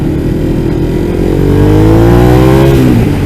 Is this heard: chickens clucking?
no